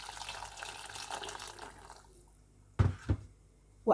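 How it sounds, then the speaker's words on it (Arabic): Boiled water poured over liver, gizzards and softened onions cooking in a pan, giving a steady splashing pour that fades out, followed by a few clunks of the pot or lid. "فاحنا هننزل عليها كده بشويه ميه مغليين"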